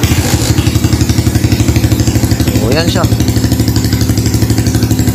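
Close motorcycle engine with a ported head and 57 mm spec running at a steady, rapid throbbing idle, with someone talking over it throughout.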